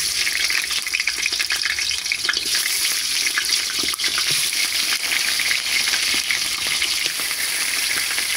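Marinated country chicken fries in hot oil, a dense, loud, unbroken crackling hiss that holds steady throughout with a splashy, watery texture.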